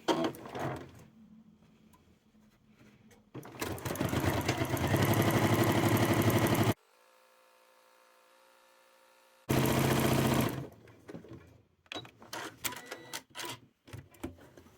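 Sewing machine fitted with a walking foot quilting wavy lines on a sea-themed wall hanging, running in loud steady bursts of stitching separated by pauses and quieter handling noises.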